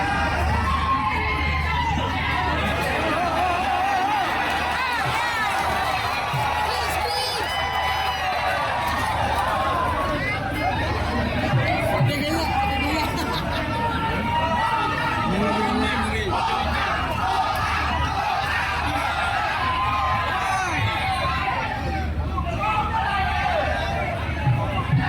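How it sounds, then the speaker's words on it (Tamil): Large crowd at an outdoor boxing match in Dataran Merdeka, Kuala Lumpur, a dense, steady roar of cheering and shouting that never lets up, with excited voices layered throughout at a moderate distance. "என்னடா சத்தம்னு பார்த்தா அந்த பாக்ஸிங் இடத்துக்கிட்ட வந்துட்டோம்"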